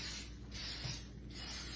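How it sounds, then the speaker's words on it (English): Cooking spray misted onto a muffin pan in three hissing bursts of about half a second each, close and fairly quiet, with short pauses between them. "I'm gonna spray my muffin pan"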